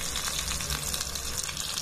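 Green chillies fry in hot oil inside a tiny toy cooking pot while miniature mutton biryani is made, a soft continuous sizzle and bubbling hiss, close but faint, with no talk over it.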